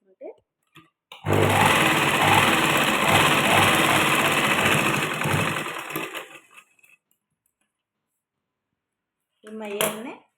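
A sewing machine stitches buttonholes in one steady, loud run of about five seconds, then stops, with a short burst of machine noise near the end.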